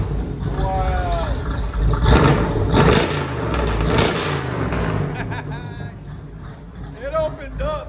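A 1966 Chevy Nova with a cammed 355 V8 and true dual Flowmaster Outlaw exhaust revs in short, loud, rough bursts, with people talking nearby before and after the blips.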